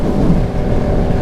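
A Yamaha MT07 motorcycle on the move produces a loud, steady low rumble mixed with rushing wind noise, continuous and close for the whole moment, with no voices.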